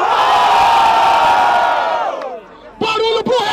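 A loud crowd at a Brazilian rap battle roars, cheering and shouting for one contestant, then drops away briefly before a fresh burst of yells.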